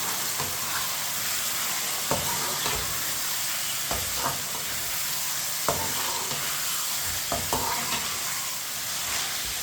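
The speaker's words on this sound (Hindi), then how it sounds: "चिकन डालेंगे। मिक्स कर लेंगे चिकन को।" Chicken sizzles loudly with onions in a hot pan as it is stirred and mixed, a constant frying hiss broken by occasional scraping clicks of a spoon, with no voices.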